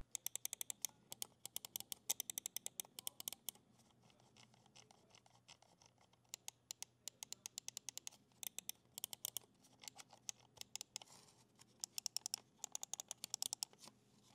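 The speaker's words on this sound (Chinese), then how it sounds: "我们来感受一下它各个按键的声音，看看是不是你的菜" Buttons on a budget three-mode Qianxingzhe S9 Pro gaming mouse are pressed in quick close-up runs of crisp, sharp clicks separated by short pauses, quiet overall and with no speech.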